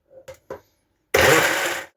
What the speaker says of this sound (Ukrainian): І це ми перебиваємо блендером до однорідного стану